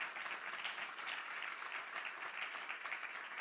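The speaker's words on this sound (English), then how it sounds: "I'd like to really give a round of applause again to all the Bal Vikas children and the teachers" Soft, steady applause from an audience at a Sai Centre birthday celebration honours Bal Vikas children and their teachers, a faint, even wash of clapping heard from a distance with no voices over it.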